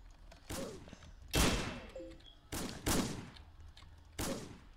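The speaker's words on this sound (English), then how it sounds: "Who shot me?" Gunfire in the Roblox game Wild Revolvers: four or five loud, sharp revolver shots spaced roughly a second apart, each ringing out with a short decaying tail.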